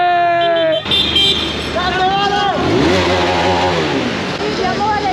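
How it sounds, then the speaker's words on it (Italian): A motorcycle engine revs and passes close by amid a noisy street celebration after a league title win, with horns tooting and people shouting and talking throughout. "Con la moto!"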